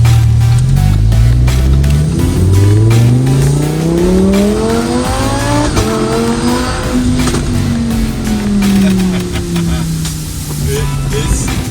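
A Lamborghini Huracan EVO sports car engine with an aftermarket exhaust revs hard through several gear changes in manual mode, its exhaust note climbing and dropping in loud sweeping pulls, heard close and continuous from inside the car.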